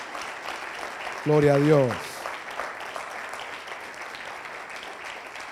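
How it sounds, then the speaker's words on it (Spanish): A church congregation applauds steadily throughout, a dense crackle of many clapping hands, while one voice briefly calls out over it partway through. "Vamos a celebrar eso con aplausos de alegría."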